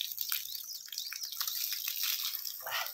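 Natural spring water in a forest in Uttarakhand, near the Nauling Devta temple, flows and splashes in a steady close hiss with faint low sounds beneath.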